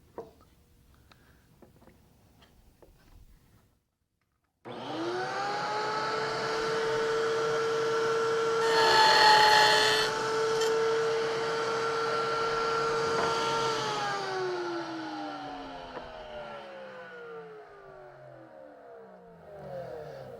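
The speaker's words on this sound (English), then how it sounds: "we'll make our first pass over that router" A router running through wood, making a first pass to cut super-thin dovetail pins; after a quiet start it spins up loudly, holds a steady high whine with harmonic tones for about ten seconds, then winds down as the motor slows.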